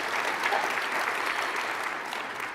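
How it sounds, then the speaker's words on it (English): Audience applause fills the room, a steady dense clatter of clapping hands that stays loud and even throughout without a break. "round of applause"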